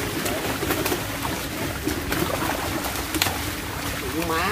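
Pigeons cooing in a soft, repeated way, set against a steady, noisy background with people talking throughout.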